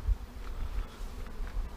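Bees buzz in a steady low drone, many insects at once, close by, with no voices.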